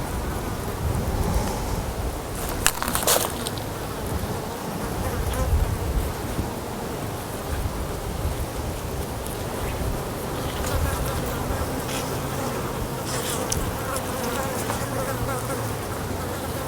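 Insects buzz continuously around a deer hide being brain tanned outdoors, a dense steady drone with close passes swelling briefly now and then.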